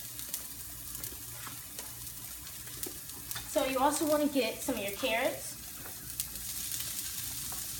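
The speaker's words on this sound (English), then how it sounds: "Don't you just love that sizzle?" Vegetables including mushrooms and zucchini sizzle steadily in a hot frying pan with scraping stirs, while a person talks briefly over the crackle midway through.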